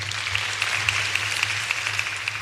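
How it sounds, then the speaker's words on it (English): Audience applause at a university public lecture in Kenya, a steady wash of clapping with faint individual claps popping through over a low hum, fairly even and moderately distant throughout. "Clap for him again"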